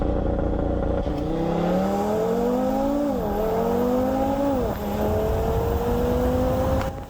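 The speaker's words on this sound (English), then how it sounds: "That uneven firing order on the inline 5 does something to your brain that a Turbo 4, no matter how exotic, just can't replicate." An Audi RS3 inline-five engine revs steadily and loudly on its own, rising and falling in pitch through several climbs with no voices over it.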